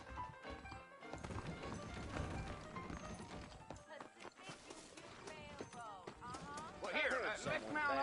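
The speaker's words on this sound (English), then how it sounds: "I got the horses saddled up and ready out front." Horse hooves clip-clopping in Red Dead Redemption, a steady, rhythmic trot on a western trail mixed with game music and voices talking over it.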